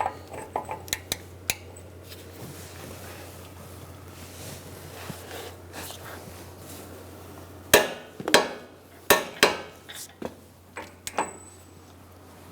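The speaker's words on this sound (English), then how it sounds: "Make sure you ping down your nut in that groove. You can use a cold chisel" Metal striking metal as a cold chisel is hammered to stake a Honda CR-V axle nut into its groove, a scattered burst of sharp close ringing blows with quieter taps and clinks before it, no talking.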